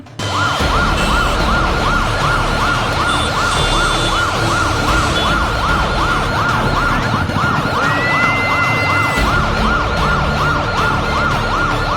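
Ambulance siren wailing in a steady, repeating up-and-down cycle, loud and close throughout, amid a crowd celebrating the arrival of the 2026 New Year, with general crowd and street noise underneath and no clear speech.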